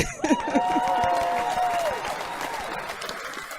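Audience applause at a stand-up comedy show, a dense wash of clapping that swells quickly and holds steady for a few seconds, with a faint tonal whine and scattered crowd noise running through it.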